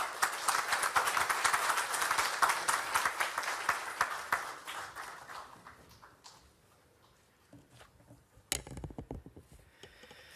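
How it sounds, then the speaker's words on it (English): Audience applause welcoming actor Rahul Bose at a book launch event: dense, loud clapping fills the first few seconds, then thins and fades into scattered claps and quieter room noise. "Please welcome Mr. Bose with a huge round of applause."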